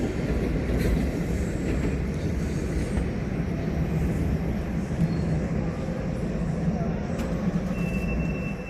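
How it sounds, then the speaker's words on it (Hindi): A train rolls past in Lugano at evening, heading toward Italy, with a steady low rumble and faint wheel squeal. It is heard from a distance over the background hum of the city. "ये ट्रेन जो है जा रही इटली की तरफ।"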